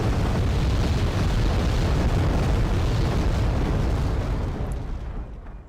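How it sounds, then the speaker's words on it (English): A heavy rocket strike in Wargame Red Dragon lands as a dense, continuous roar of overlapping explosions, loud and rumbling for several seconds before fading out, with no talking. "Heavy rocket strike."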